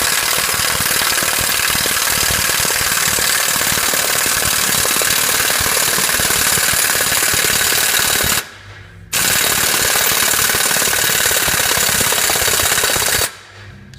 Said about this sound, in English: take your impact, set your impact to forward motion